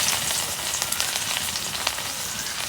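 Chopped onion hits hot oil in a clay pot while a fish curry with gourd is cooked, giving a dense, even hiss of frying with small crackles, close and steady.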